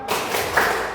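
Children clap together in the rhythmic 'tepuk semangat' pattern in a classroom, a dense burst of close hand claps lasting about a second.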